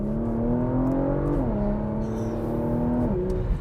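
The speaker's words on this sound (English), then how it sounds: "Do a couple revs. I want to hear some upshifts." 2020 Porsche Macan Turbo with a 2.9-liter twin-turbo V6 heard from inside, engine pitch climbing steadily then dropping sharply at two upshifts, a smooth mid-loud hum throughout with no talk.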